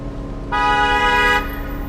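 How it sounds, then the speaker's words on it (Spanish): A single sustained car horn blast, loud and steady for about a second, over a low rumbling engine and traffic background. "empecé a tocar el claxon y gritarles que ya avanzarán"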